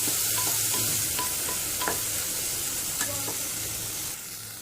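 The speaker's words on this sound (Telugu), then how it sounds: "వేసుకొని ఇలా ఒకసారి అంతా కలిసిలాగా కలుపుకోవాలి" Tomatoes and salt being stirred in a pan for horse gram rasam, with a steady soft sizzle throughout and a few sharp scrapes of the spoon against the pan, close up, no talking.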